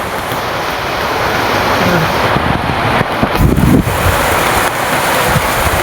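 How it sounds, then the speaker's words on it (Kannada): Heavy first rain of the year lashing down in strong wind at a house with flapping tarpaulins, a dense steady roar of rain and gusts filling the whole stretch, with rumbling buffets of wind near the microphone. "ನೋಡಿ ಗಾಯ್ಸ್ ಎಷ್ಟೊಂದು ಮಳೆ ಬಂತು, ಫುಲ್ ಮಳೆ ಬಂತು"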